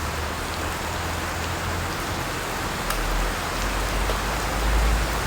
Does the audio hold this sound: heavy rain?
yes